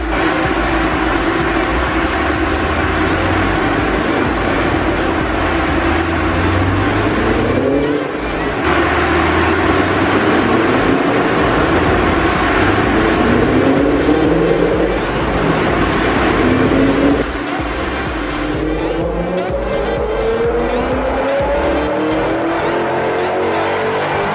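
Supercharged BMW M5 engine on a dyno for a slow pull, with cooling fans running, droning loud and steady throughout as the pitch rises gradually, then dips and climbs again.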